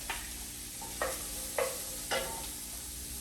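Diced onion cooks in olive oil for a homemade pasta sauce, giving a quiet steady sizzle with four distinct utensil scrapes spaced roughly half a second apart, with no voices.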